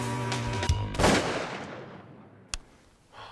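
A Winchester shotgun fires a single loud blast at a turkey during a South Dakota hunt, with a long fading echo, then a fainter sharp report a moment later.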